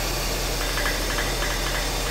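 Engine fan on a Mercedes 126 striking its fan shroud, a faint repeated ticking scrape over a steady running-engine drone with broadband noise.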